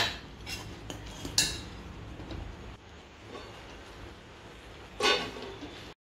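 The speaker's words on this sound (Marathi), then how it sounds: "ठीक आहे, तर हे सतत आपण हलवत राहायचं आहे." Kunafa vermicelli being stirred in a pan, with quiet scraping and clinking of a utensil against metal, a few louder scrapes standing out against a steady low background hum.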